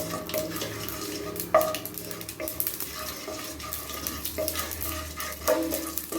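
Four dried red chillies fry in oil with popped mustard seeds for vendhaya sambar, making a close, crackling sizzle with frequent stirring scrapes and a few clinks of the pan, with no speech.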